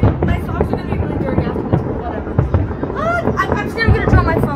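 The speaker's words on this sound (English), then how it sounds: "let's continue watching the fireworks" New Year fireworks bursting over Dubai near the Burj Khalifa, a steady crackling roar with repeated booms and whistling rises, heard close amid a crowd, with a person talking over them.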